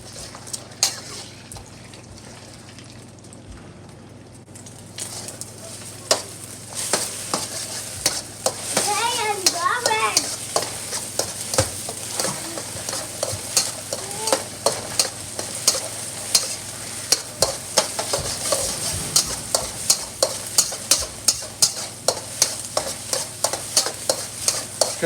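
Egg frying in hot oil in a wok with bean sprouts, a loud continuous sizzle growing fuller after a quieter start, with regular spatula scrapes and clacks of stir-frying and a brief voice partway.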